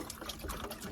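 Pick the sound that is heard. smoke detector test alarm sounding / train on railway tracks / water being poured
water being poured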